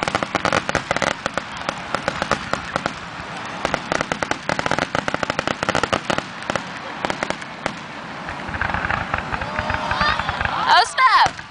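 Fireworks bursting at an outdoor display: dense rapid crackling pops and booms fill the scene continuously, with excited crowd voices and cheering mixed in, swelling near the end.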